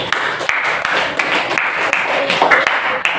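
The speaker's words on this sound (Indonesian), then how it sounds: "Tepuk tangan dulu untuk kelompok 4." Classroom applause for a student group, a dense patter of many hands clapping close and loud throughout, with voices mixed in.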